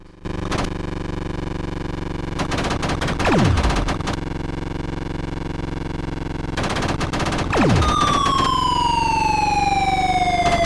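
Gunfire comes from the Atari Lynx game Warbirds as bursts of rapid synthetic chiptune shots, with falling tonal sweeps and a steady electronic drone underneath, loud and without talk.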